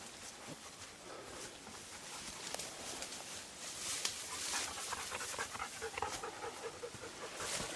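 A dog named Philly pants loudly and steadily, close by, with rapid rhythmic breaths continuing throughout on a walk along a rock face at Roche Percee, with faint footsteps and outdoor noise beneath.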